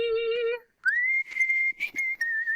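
A person whistling in a studio setting: a steady held tone, a brief gap, then a higher sustained whistle broken into several short bursts, close and loud, with no talking.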